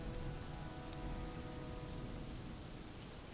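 Steady rain pours in the Dwarf Fortress video game, a dense, even hiss of falling water that holds at a constant level through the short stretch with no voices over it.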